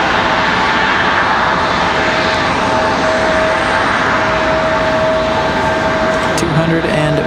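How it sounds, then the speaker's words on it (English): Steady, loud jet-engine roar from an Alaska Airlines airliner departing Raleigh-Durham International in windy weather, holding even throughout with a thin tonal whine riding over the broadband rumble. "Alaska Airlines getting a move on"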